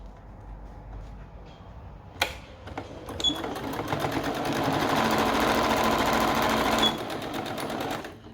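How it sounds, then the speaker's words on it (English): Sewing machine stitching the inside leg seam of a pair of shorts, running steadily and loudly at close range for several seconds after a few brief handling clicks, then stopping abruptly. "I'm going to put a seam on there now"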